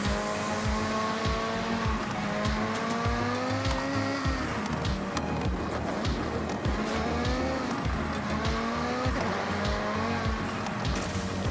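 An off-road car in Forza Horizon roars continuously, its engine tone rising and falling through gear changes while tires squeal and skid, loud and close with no pauses.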